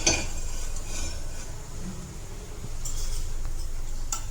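A frying pan set on a home kitchen stove before making rice-flour dough gives a metallic clink at the start, a quiet hiss, and another knock near the end.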